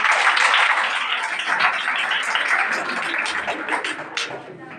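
An audience at an Independence Day program claps in a dense, steady burst of applause that slowly tapers off, with faint voices mixed in.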